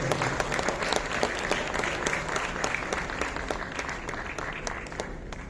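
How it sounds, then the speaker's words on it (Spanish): Dense, steady applause from a conference audience honoring an architect, many hands clapping together at close range for the full stretch without pause. "Un fuerte aplauso para el arquitecto."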